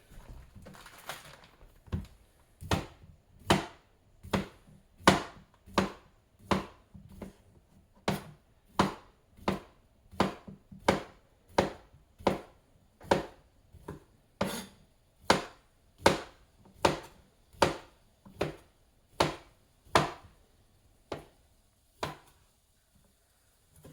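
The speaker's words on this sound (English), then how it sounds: "come back over here and get back to cutting" Knife chopping andouille-style smoked sausage on a cutting board, a long, steady series of sharp, close, evenly spaced cuts, around two dozen strikes in a regular rhythm with no talk.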